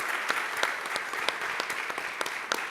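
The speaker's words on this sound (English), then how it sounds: "So let's give yourselves a round of applause for the time that you've taken to be here today." Conference audience applauding, a steady wash of many hands clapping with a few sharper individual claps standing out, sustained throughout and not overlaid by talk.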